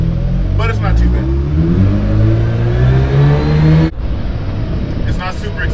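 Inside a Mazda RX-8 race car, the rotary engine revs up with a rising transmission whine, loud and close, then cuts off abruptly as the throttle lifts near the end.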